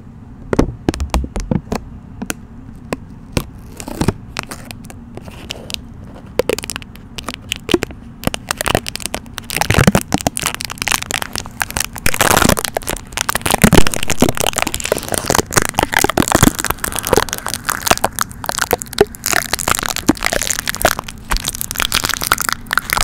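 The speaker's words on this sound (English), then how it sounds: "tape the mic and then peel it off" Tape peeled off a taped-over microphone up close, sparse sharp crackles at first building into a dense, loud run of sticky ripping and crinkling pops that continues to the end, with no voices.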